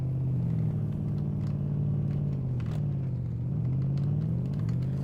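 A 1966 Ford Mustang in the survival game DayZ drives off-road with a steady, loud, low engine drone whose pitch dips and rises slightly with bumps and throttle, close and continuous with no talking.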